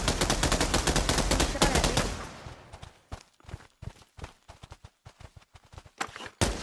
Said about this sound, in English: Who was shooting?